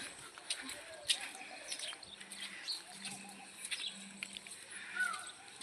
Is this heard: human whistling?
no